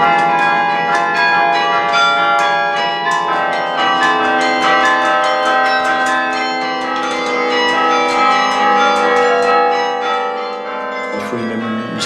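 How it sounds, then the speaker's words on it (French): Many church bells ring together in a dense, overlapping carillon melody played by fists on the keyboard to sound even the heaviest bells, loud and resonant, with strikes rippling continuously throughout. "Stefano joue avec les poings pour être sûr de faire sonner toutes les cloches"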